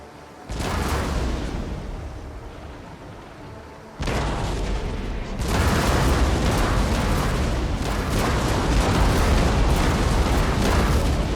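Ship cannons in the Napoleon Total War naval battle fire as a dense, continuous barrage of booming blasts that blur into one loud roar, briefly dipping before resuming at full intensity.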